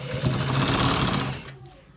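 A sewing machine stitching the end part of a designer button shirt runs in one steady, loud burst for about a second and a half, then cuts off abruptly.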